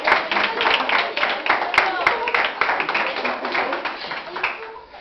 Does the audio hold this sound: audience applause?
yes